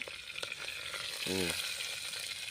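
Spices, curry leaves and green chili crackle and sizzle in hot oil for a spicy Tamil fish curry; a dense, steady frying hiss runs throughout, with a brief tonal beep partway through.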